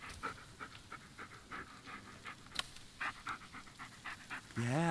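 A dog in the Blair Witch video game pants in quick rhythmic breaths, soft and close, over faint ambient noise, with a brief voice or tonal sound rising at the very end.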